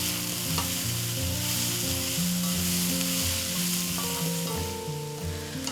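Mung bean sprouts cook in a pan for a vegetarian soup, giving a continuous, even sizzle with stirring and a low steady hum underneath.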